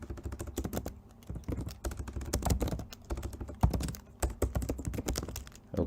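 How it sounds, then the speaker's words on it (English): Code is typed on a computer keyboard in quick, uneven bursts of close, crisp key clicks with short pauses between runs, heard alone without talk. "So let me just go ahead and type get"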